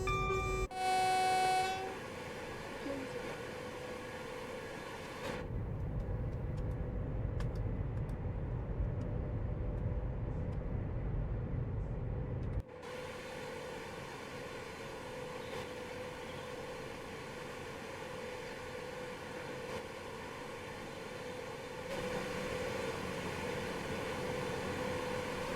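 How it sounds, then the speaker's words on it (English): Steady electric hum and whine of a British Rail Class 350 electric multiple unit running in a train simulator, with a short horn-like tone at the start and shifting drone levels, no talking. "I actually like the running sound of this 350, this Zero."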